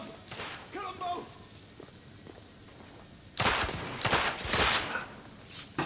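Video game gunfire: a few scattered shots early on amid shouted talk, then a loud cluster of heavy, close bangs near the end.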